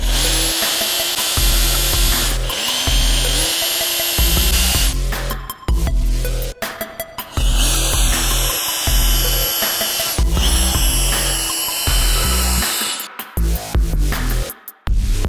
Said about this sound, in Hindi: चलिए अब हम इसे अपनी डीजे में फिट करके स्क्रू की मदद से टाइट कर लेते हैं।